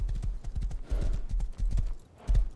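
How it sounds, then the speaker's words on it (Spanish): Horse hooves clip-clop in a quick, uneven rhythm in the video game Rust, loud and close, with a short pause before the steps resume. "Este caballo."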